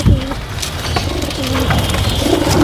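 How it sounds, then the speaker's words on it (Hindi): Pigeons kept indoors coo in low, rolling phrases while pecking at scattered grain feed, several birds close by with a steady background hum and no talk. "ये देखिए सारे कबूतर एकदम टूट के पड़ेंगे दाने पे।"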